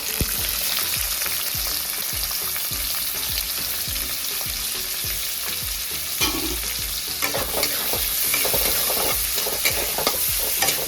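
Onions frying in mustard oil, stirred steadily in the pan, give a continuous close sizzle broken by repeated scraping stir strokes, with no talking.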